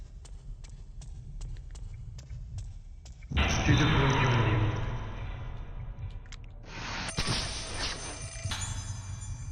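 Telephone ringing in the video game Fatal Frame 4: Mask of the Lunar Eclipse, a sequence of regular electronic rings followed by a loud sustained noisy burst and then a higher tonal ring.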